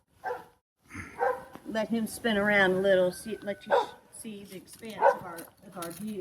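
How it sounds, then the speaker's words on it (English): Zeus, a pet dog, barks in the background in short, intermittent bursts that are partly masked by a person talking close by outdoors. "that's our dog Zeus. He's mad because we didn't bring him out."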